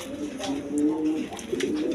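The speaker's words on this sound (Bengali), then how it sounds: "বন্ধুগণ এখানে এক পেয়ার রেসার কবুতর আছে" A pair of large racer pigeons cooing softly at close range, low throaty coos repeating in short phrases, with a voice talking faintly in the background.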